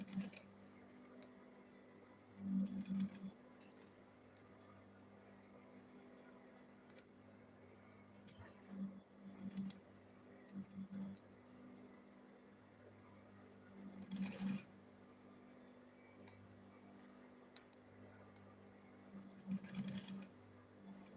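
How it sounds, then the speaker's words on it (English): A sewing machine stitches around a double-zip lunch bag in short intermittent bursts of a few seconds each, separated by quiet pauses, at moderate loudness close by with faint room hum underneath. "Then I'll go ahead and sew it round."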